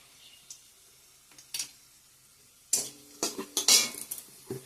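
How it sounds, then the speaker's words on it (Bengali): A spoon scrapes and clatters in a frying pan as mustard paste is stirred into hot oil with garlic, onion, dried chilli and black cumin for a Bengali fish curry; soft sizzling, then a run of close, brisk stirring knocks. "সর্ষে বাটাটা দিয়ে দিব।"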